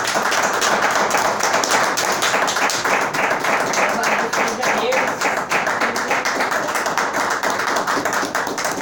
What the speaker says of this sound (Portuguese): Desocupe a tua mão, por gentileza, aplaude a nome do Senhor.